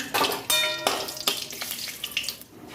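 Bay leaf dropped into hot oil in a pan, crackling and sizzling with several sharp bursts of spattering that settle into a steady fry, close and fairly loud.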